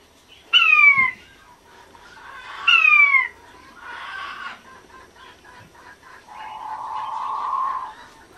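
A quail indoors calls to others in an outdoor aviary: two loud, sharp descending calls, then softer chirps and a lower, steady murmur. No one speaks.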